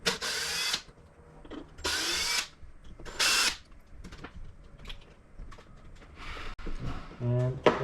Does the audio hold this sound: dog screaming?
no